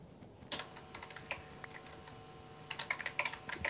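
Rapid typing on a computer keyboard, a quiet stream of light clicks that thickens into a busier burst toward the end, alone without talk.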